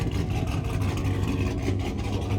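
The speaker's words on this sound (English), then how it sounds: "So my boy Fernie was here and I wanted to show him how an LS should sound." A Chevrolet Silverado SS truck's LS V8 engine idles with a deep, steady rumble, close and continuous with no talking.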